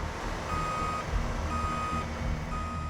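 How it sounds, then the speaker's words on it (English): A tow truck reverses toward a roadside edge during a highway bus recovery, its backup alarm beeping in a steady rhythm of evenly spaced tones over a continuous low engine rumble. "Then Dylan has to back his truck closer to the edge."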